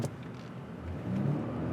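A 2008 Aston Martin DB9 convertible pulls away from a standstill with a low engine rumble that swells briefly as it starts moving.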